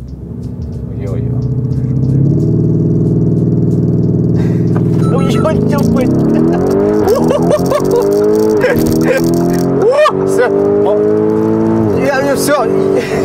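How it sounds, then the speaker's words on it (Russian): Lamborghini Urus engine and exhaust give a steady, loud, deep drone that climbs in pitch as it revs harder partway through, heard from inside the car with people talking over it throughout. "Сам звук еще, вот этот мощный выхлоп"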